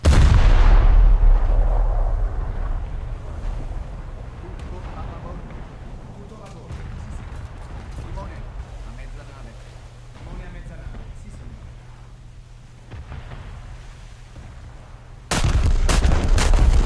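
An Italian premium battleship firing main gun shells in War Thunder: a huge boom at the start fades into a long rumbling tail, a low hum runs under a voice, then a second sharp loud blast near the end.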